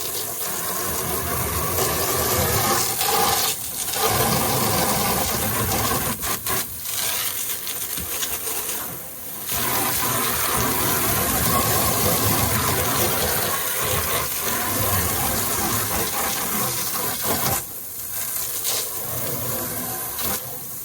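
Water rushes and splashes while rinsing gunk out of a horse water trough outdoors on a farm, a loud continuous wash with brief pauses and scraping.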